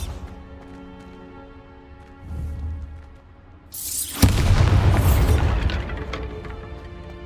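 A Bombarda spell blast in Hogwarts Legacy: a low rumbling swell, then a loud booming explosion that bursts out and lingers as a heavy, crackling roar.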